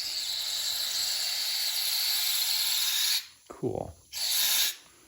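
Spray cleaner hisses through the passages of a GP1200i carburetor in a steady loud jet for about three seconds, then cuts off. A short burst of spray follows. A brief spoken word comes in the gap.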